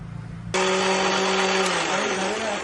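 A kitchen mixer grinder starts abruptly and whirs loudly, grinding cooled masala for sandage into a paste, a steady high motor whine with a slight pitch dip midway.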